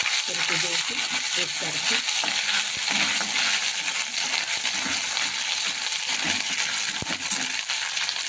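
A ginger, garlic and coriander paste sizzles steadily in a hot pan of oil with browned cumin seeds, a dense, continuous frying hiss with faint clinks of stirring throughout.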